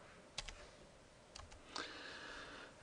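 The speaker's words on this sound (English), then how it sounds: "I just type H on the keyboard" A few quiet key presses on a computer keyboard while someone uses a shortcut in software, with soft isolated clicks spaced apart over a faint hiss.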